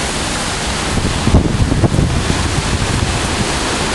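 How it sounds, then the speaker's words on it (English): A strong wind gust roars across a storm-wrecked neighborhood in the aftermath of Hurricane Katrina, a steady, loud rush of blustery outdoor air that swells briefly to a peak before settling back. "There's a gust."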